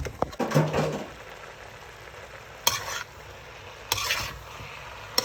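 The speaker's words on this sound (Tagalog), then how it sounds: "Tapos, lulutuin mo yung mushroom. Haluin." Mushrooms stirred and frying in a pan for fettuccine, with a soft steady sizzle and a few sharp scrapes and clinks of a utensil against the pan, close by and with no talking.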